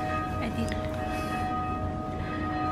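Church bells tolling in a town laneway in Korea, a steady ringing with sustained tones spread through the whole stretch, mixed with street ambience and some voices nearby.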